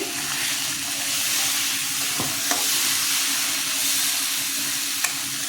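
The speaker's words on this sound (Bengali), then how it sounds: "কষানো হয়ে গেছে জল দিয়ে দিচ্ছি" Water poured onto sizzling spice paste with yogurt and sugar for a tomato katla curry, a loud steady hiss and bubbling with a few sharp utensil clicks, close by, with no talking.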